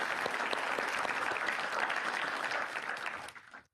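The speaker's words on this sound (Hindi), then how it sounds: "उसके लिए भी तालियां" An audience applauds during a televised exam-discussion show about AI and study tips, a steady wash of clapping that holds for a few seconds and then cuts off sharply.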